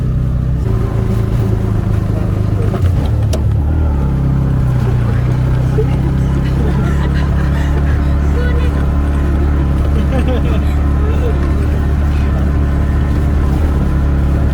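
A small motorcycle engine drones steadily throughout, with low rumbling tones and wind noise, as if recorded while riding.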